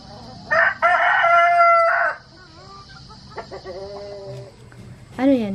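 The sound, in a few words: labuyo (red junglefowl) rooster crowing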